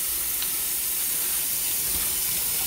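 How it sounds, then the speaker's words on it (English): Pot of water boiling with a ham hock in it, a continuous steady hiss and bubbling rush, close and even throughout with no talking. "So that's boiling in the water."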